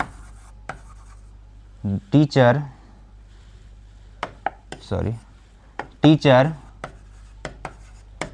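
Chalk or marker strokes tapping and scraping across a classroom board as a teacher writes out a sentence, with short bursts between pauses; someone speaks briefly in between.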